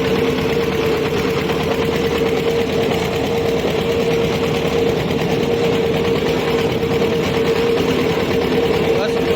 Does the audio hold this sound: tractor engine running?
yes